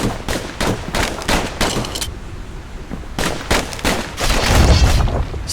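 Dual slinger pistols fire in the video game Bastion, loud rapid volleys of sharp shots in two clusters separated by a brief pause, with no talking.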